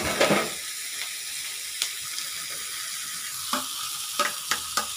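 Garlic and onions sizzle steadily in a hot pan, a continuous bright hiss broken by a few soft scrapes and clinks as the pan is stirred.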